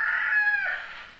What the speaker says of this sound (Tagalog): may tumitilaok na manok